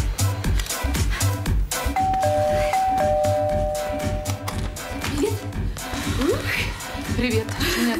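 A doorbell rings indoors in a Russian thriller film. Sustained chime tones sound near the middle and are partly layered with background sound and voices.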